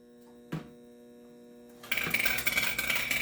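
A power unit driving toy-making hammers and presses is switched on. After a quiet electrical hum and a single knock, it bursts into a loud, continuous mechanical whir and rattle that dominates the last second and a half.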